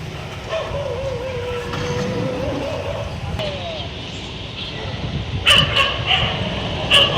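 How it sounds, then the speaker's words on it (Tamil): Stray dogs being rounded up by municipal workers on a street yield a few sharp yips and barks near the end, heard over steady broadband street noise with a continuous background rumble. "நகராட்சி ஊழியர்கள் தெருநாய்களை மடக்கி பிடித்து கூண்டில் அடைத்தனர்"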